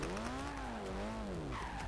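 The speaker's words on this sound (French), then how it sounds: "Je fais souvent des têtes à queue." A car in the racing game Gran Turismo 5 skids into a spin, with a steady, loud tire squeal rising and falling in pitch for about two seconds over engine drone.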